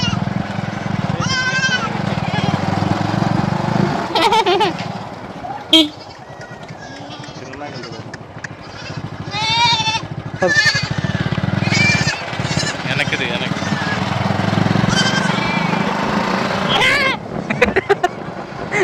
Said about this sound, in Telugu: సుమారు ఒక 200 మేకలు ఉంటాయా?